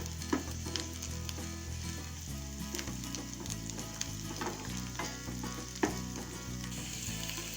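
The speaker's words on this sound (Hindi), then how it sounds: "अब इसमें हम 2 कटी हुई हरी मिर्च और थोड़ी सी लहसुन की कलियां बारीक कटी हुई इन्हें भी डाल देंगे और इनको अच्छे से भून लेंगे" Onion, green chillies and finely chopped garlic fry in a pan for a home-style dal tadka, giving a steady, close sizzle that runs the whole time over soft background music.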